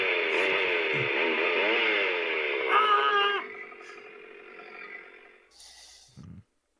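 A person voices a chainsaw sound effect for a tabletop role-playing game, a loud sustained buzzing roar with revving wobbles that rises and then trails off into quieter rumbling before ending abruptly.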